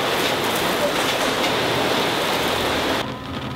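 Heavy rain from a sudden flash storm pours down as a dense, steady hiss, loud and close, dropping off abruptly near the end.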